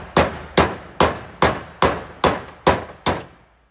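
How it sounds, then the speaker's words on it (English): Eight sharp, evenly spaced hammer blows drive a pointy chisel into the hole of a front wheel bearing on a 9th-generation Honda Civic. Each blow lands as a loud, close metallic clang that quickly decays. "get a pointy chisel and stick it inside of the hole and just hammer it"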